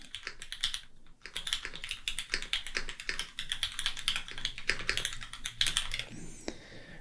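Fast, continuous typing on a computer keyboard, close and clear, with light clicky keystrokes in quick bursts and a brief pause about a second in, ending with a faint higher sound.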